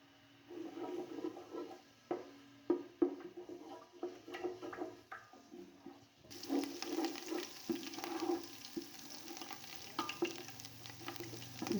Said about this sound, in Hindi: अब हम इसके अंदर डाल देंगे लहसुन अदरक का पेस्ट। इसको हम अच्छे से भून लेंगे